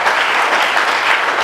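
A church congregation at a revival service in Pekanbaru, Riau bursts into loud, dense, continuous applause and cheering that fills the whole moment.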